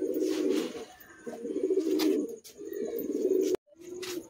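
A pair of pigeons coos close by in repeated throaty, rolling phrases with short pauses between them.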